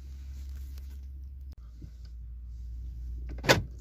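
A minivan camper's side door thuds shut with a brief clunk, then after a pause a sharper latch and lock sound follows, over a low steady hum.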